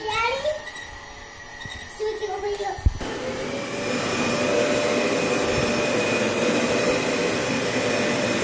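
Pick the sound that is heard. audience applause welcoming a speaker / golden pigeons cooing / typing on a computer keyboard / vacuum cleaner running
vacuum cleaner running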